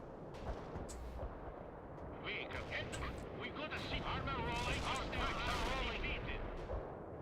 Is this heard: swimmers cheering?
no